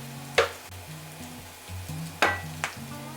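Bread cubes fry into croutons in a pan that was used for garlic. There is a soft sizzle with a low steady hum, and a few sharp scraping clatters of stirring come at irregular moments.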